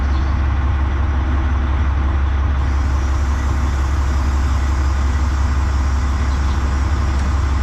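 A heavy truck engine rumbles steadily at idle, loud and close, a constant low drone with no pauses.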